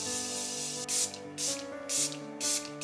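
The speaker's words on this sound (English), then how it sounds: "It sprays like an actual spray." Morphe and Revolution setting sprays spritzing onto a made-up face, four short bursts of forceful spray hiss at steady intervals over quiet background music, close and fairly loud.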